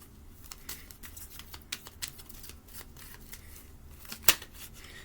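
Playing cards are shuffled and flipped close up in a quiet room, a run of soft riffling flicks and light slaps, ending in one sharper snap.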